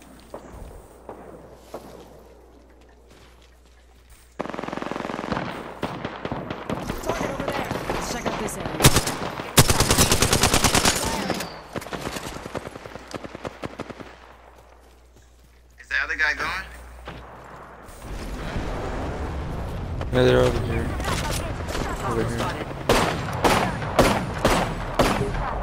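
Rapid automatic gunfire in a shooter video game, long stretches of loud rattling bursts with short pauses between them, while a player talks over much of the fighting.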